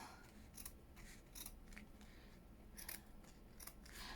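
Scissors snip through fabric in a series of quiet, crisp cuts with short pauses between them, close to the ear.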